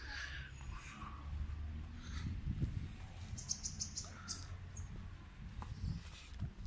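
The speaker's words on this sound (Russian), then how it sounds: "Птички поют здесь всегда." Birds chirp faintly in a city park in Khabarovsk, with thin scattered calls above a low, steady outdoor rumble and some soft handling noise.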